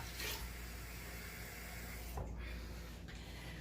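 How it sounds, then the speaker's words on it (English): Cold water pours steadily into a pot in a soft continuous hiss, close and fairly quiet, with a couple of brief clunks partway through. "Now I'm going to add 2 cups of cold water."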